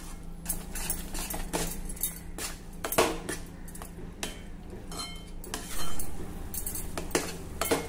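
A spoon stirs and scrapes a fasting-dish mixture sautéing in a pan over a low flame, giving repeated metallic clinks and scrapes in an irregular rhythm, close and moderately loud, with no talking.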